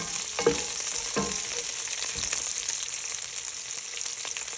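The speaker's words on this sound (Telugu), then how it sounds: "ఆనియన్స్ కూడా ఇందులో వేసేసుకోవాలి అలాగే ఒక టూ మినిట్స్ పాటు వేగనివ్వాలి" Onions frying in oil in a pan for a cabbage and moong dal curry: a steady, bright sizzle with a few soft stirring scrapes near the start.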